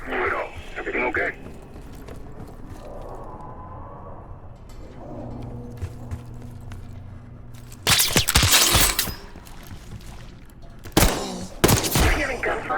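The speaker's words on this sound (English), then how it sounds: "You hearing gunfire?" Bursts of rapid gunfire in Call of Duty: Black Ops 6 crackle in two loud volleys, the first lasting about a second and a later shorter one, following a stretch of quiet rumbling ambience.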